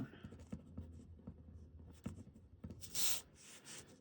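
A pen scratches across paper in short strokes, quiet and close, over a faint background hum with a brief louder rustle.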